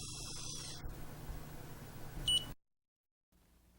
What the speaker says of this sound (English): When it's finished, it will give you a little beep to let you know you're ready for the next step